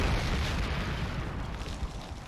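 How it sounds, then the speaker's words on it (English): Artillery explosions from the WWII strategy game Panzer Corps 2, German forces shelling Polish positions: a dense, sustained rumbling blast with broadband roar that slowly decays over a couple of seconds, with no talk. "Hit him with artillery again."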